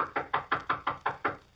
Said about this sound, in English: There's somebody knocking.